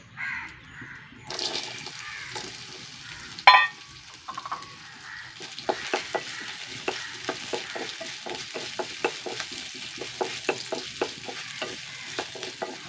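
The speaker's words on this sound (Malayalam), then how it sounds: "തേങ്ങാക്കൊത്ത് നെയ്യിൽ വറക്കുമ്പോൾ നല്ല മണം മൂക്കട്ടെ" Soft, steady sizzling of coconut pieces frying in ghee, broken by repeated scraping stirs. Near and fairly quiet, with no talking.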